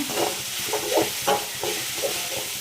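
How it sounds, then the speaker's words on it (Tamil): Ground tomato paste sautés in a pan with onion, a soft sizzle broken by a rhythmic series of stirring scrapes, close and moderately quiet. "அரைச்சி வச்சுருக்க தக்காளி இதை போடுறேன். நல்லா வதக்குங்க."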